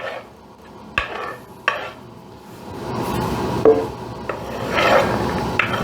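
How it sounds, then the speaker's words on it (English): Carrots and a whole onion cooking in cooking fat in a pan, a steady scraping and rasping of stirring with a few sharp knocks of the utensil against the pan, and a low sizzle building toward the end. "we're going to now cook the carrots and the onions"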